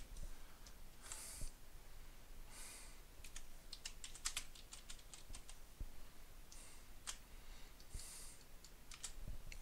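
Keys on a TRS-80 Color Computer keyboard clack in quick irregular bursts with brief pauses, close and fairly quiet.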